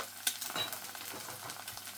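An egg frying in a pan, a steady close crackling sizzle with small pops and spatters running throughout, no voices.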